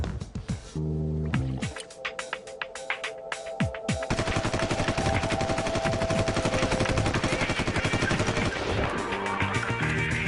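An HK416 rifle fires in a durability test, starting with a few spaced single shots and then breaking into a long, loud continuous burst of rapid automatic fire, with a brief voice near the start.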